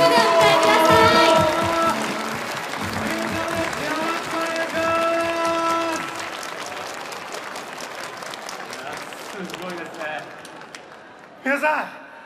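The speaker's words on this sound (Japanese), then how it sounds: "さあ皆様大きな拍手でお迎えください。" An audience at a stage show in Nintendo World applauds, the clapping strongest at first and then thinning out, with voices talking over it and a short burst near the end.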